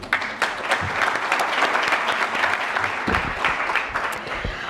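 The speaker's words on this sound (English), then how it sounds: "Definitely a round of applause for Steve as well as the rest of the CLPHA staff" Steady audience applause at a housing summit plenary panel, many hands clapping close and continuous with a few sharper individual claps throughout.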